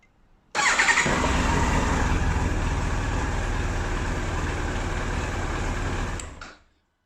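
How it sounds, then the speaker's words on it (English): A Yamaha R1 5JJ sport motorcycle engine catches and runs steadily for about six seconds, a loud, close, even drone that cuts off abruptly and fades out at the end. "So it's such a great relief to hear this bike running"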